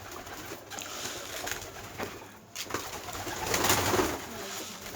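Soft cooing of a Turkish tumbler (dönek) pigeon repeats a few times nearby over a quiet outdoor background, with light rustling between calls.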